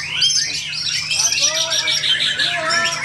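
A white-rumped shama (murai batu) at a songbird contest pours out quick, varied chirps and whistled phrases mimicking small birds, steady and close, with other birdsong behind it.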